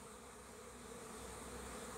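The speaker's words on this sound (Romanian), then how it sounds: "din când în când mai apare și cât o albinuță cu polen" Honey bees buzz around a beehive in a faint, continuous drone, an even hum with no talk over it.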